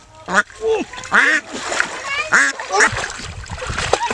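A local duck is caught in water amid loud splashing, with repeated honking quacks close by and a voice mixed in.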